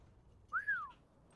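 A single short whistled note, rising then gliding down, sounds over a quiet background during a live tabletop roleplaying game session at GenCon 2022.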